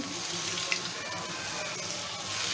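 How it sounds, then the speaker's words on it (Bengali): Water pours in a steady, close stream into a cooking pan of mustard paste for shorshe ilish, lasting a couple of seconds. "একটু পানি দিয়ে দিচ্ছি"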